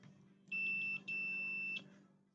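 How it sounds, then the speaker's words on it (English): A multimeter in continuity beep mode during a Dell Inspiron 3521 laptop motherboard repair gives two steady, fairly loud electronic beeps, the first about half a second long and the second longer, over a low background hum. "I'm just going to test the beep mode"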